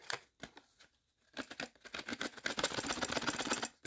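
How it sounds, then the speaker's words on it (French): A WOTAN Dulux-S 9W red G23 fluorescent lamp is pulled from its cardboard packaging, with sharp crinkling, tearing and rustling in quick irregular bursts close up, building into dense handling noise, no talk. "je vais en déballer une directement sans qu'il y ait, comment dire, d'emballage"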